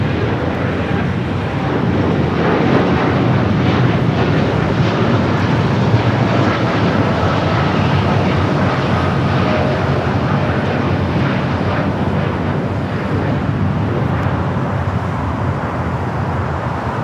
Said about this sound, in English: That's a flight to Newark in that 787-9 Dreamliner.